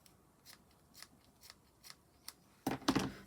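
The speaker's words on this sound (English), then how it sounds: "They're not really fabric scissors" Fabric-style scissors snipping ribbon for a Shaker-style gift bag: a series of short, crisp snips spaced about half a second apart, then a louder, fuller burst of rustling cuts close by at the end, with no talking.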